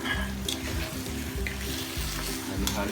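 Chicken sizzles steadily in a pan with salt and bay leaves for a creamy chicken pastel while it is stirred, giving a close, continuous fry with light scraping from the stirring.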